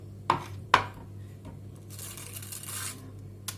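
Cooked papya peppers are chopped: two crisp knife strikes sound close together near the start, then a softer rustling shuffle and one more faint tap at the end, close and quiet, with no speech.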